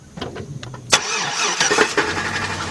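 A 2006 GMC Envoy XL Denali with the 5.3 engine and a reported knocking noise starts up close by: a short crank, then the engine catches and settles into a steady, rough running idle, with no talk.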